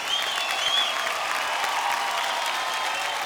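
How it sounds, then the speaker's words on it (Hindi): Sustained audience applause fills an awards-ceremony hall in India, a dense, steady wash of many hands clapping at even loudness throughout, with no voices standing out. "एक जोरदार ताली।"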